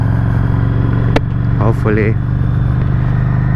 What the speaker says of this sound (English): I also want you to listen to the engine sound and the wind noise